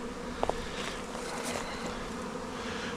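A package of honeybees hums in a backyard hive setup, a soft continuous buzz close by with two brief sharp taps near the start.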